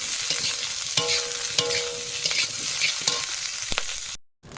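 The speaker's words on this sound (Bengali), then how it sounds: "কাঁচা লঙ্কা দিয়ে দেবো, দিয়ে ভালো করে মিশিয়ে নেব।" Green chillies stirred into spices frying in a pan, a continuous sizzle broken by repeated sharp scrapes and knocks of the spoon, close, with a brief dropout near the end.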